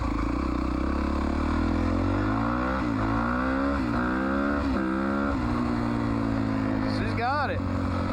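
A dirt bike engine runs steadily and close, its revs rising and falling in a few swells, with a sharper rev burst near the end.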